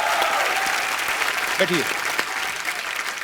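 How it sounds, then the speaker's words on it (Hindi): Studio audience applause on a Hindi comedy talk show rolls on steadily under a brief spoken word from the host, fairly loud throughout. "दोनों के लिए जोरदार तालियां।"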